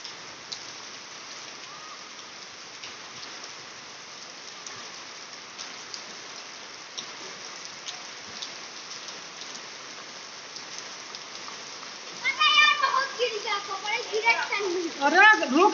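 Steady rain falls outdoors in a dense, even hiss of drops hitting surfaces, continuous and moderately loud, with a voice calling out near the end over the downpour.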